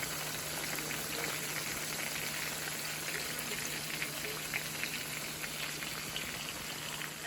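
Onions frying in a pan on a stovetop, a steady, even sizzle and crackle of hot oil that holds at a constant level throughout with a low background hum and no voices.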